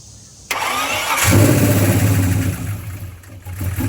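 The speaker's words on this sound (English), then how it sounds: "So it started, but the problem is it died right away." An LS-swapped Genesis Coupe engine cranks and catches with a loud burst, idles roughly for a couple of seconds, then sputters as it dies away, heard up close.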